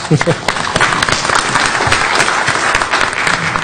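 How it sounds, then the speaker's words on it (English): Dense, steady applause from an audience celebrating a newly titled doctor, filling the hall for several seconds with a few voices mixed in. "round of applause"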